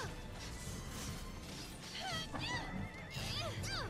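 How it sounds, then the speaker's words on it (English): A horse whinnies in the Drakengard 3 video game, rising, wavering calls toward the end over a steady wash of battle noise and clashing impacts, moderately loud. "Whoa! There's a horse!"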